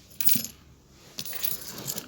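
Coins drop into a UV sterilizer box, giving two bright metallic clinking bursts a second apart, close and fairly quiet with no voices.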